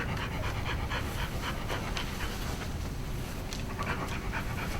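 A service dog pants steadily and close by at a veterans' press conference, the quick rhythmic breaths running on with faint background noise and no talking.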